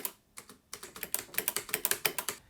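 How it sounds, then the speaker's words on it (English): Keys clack on an Alienware 510K mechanical keyboard, a rapid close run of sharp plastic clicks that grows faster and denser, with no voices. "The space is always the loudest key."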